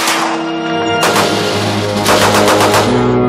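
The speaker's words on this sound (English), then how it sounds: "This is a U.S. rifle caliber 30 M1." A U.S. M1 rifle, caliber .30, fires in loud, harsh blasts close by, with dense crackling reports and rolling echo filling the space, and no voices.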